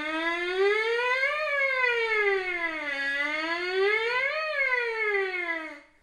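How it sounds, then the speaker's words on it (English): A lip buzz on a trumpet mouthpiece glides up and down like a siren: a bright, reedy tone that rises, falls low, climbs again and fades out, played alone and close. "Now we're going to add to that the sirens or glissandos,"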